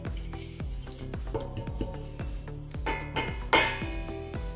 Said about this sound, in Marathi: आता याच तेलामध्ये आपल्याला हा तयार करून ठेवलेला मसाला टाकून द्यायचा आहे।